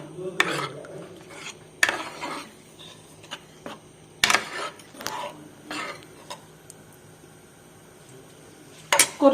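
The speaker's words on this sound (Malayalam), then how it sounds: "ഇനി മിക്സ് ചെയ്ത് ഉപ്പെല്ലാം കറക്റ്റാണോ നോക്കണം." A spoon stirs sambar of cooked lentils and water in a metal pot, making intermittent scrapes and clinks against the pot's sides with quiet gaps between strokes.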